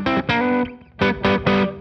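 Distorted electric guitar lick in G played with hybrid picking, a short phrase of bright sustained notes in two bursts separated by a brief gap, close and loud.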